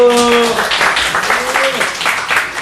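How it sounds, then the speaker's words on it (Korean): A church congregation bursts into welcoming applause for a visiting pastor. Clapping rises over a voice that fades in the opening half-second, and the applause continues steadily with brief vocal sounds mixed in. "박수로 환영합니다"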